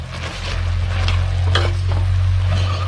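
Holy basil and oyster sauce stir-fried in a hot pan give a steady, close sizzle, with a spatula scraping and tossing through the food and a low hum underneath.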